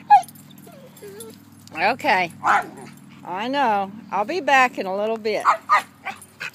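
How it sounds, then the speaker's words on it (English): Puppies whimper, whine and yip in high, wavering cries, close and fairly loud, under and between a person talking to them. "that's a lot of puppy talk going on there"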